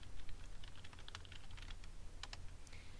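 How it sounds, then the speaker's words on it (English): Keystrokes clatter on a computer keyboard as a name is typed, a steady run of light, close clicks with a few sharper taps, no voices over them. "On the left-hand side, I'm ready to type my name"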